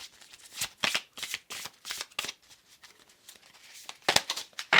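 Tarot cards being shuffled by hand in a series of quick riffling, papery bursts, close and fairly loud with brief pauses between, and no talking.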